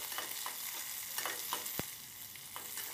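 Onion, green chili and curry leaves sautéing in a pan for peanut rice, with a soft steady sizzle and a few light scrapes and taps of a spatula, close and fairly quiet.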